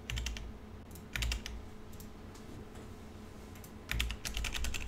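Rapid clattering keystrokes come in short bursts of typing on a computer keyboard, close and clear over a steady low background hum, with brief pauses between flurries.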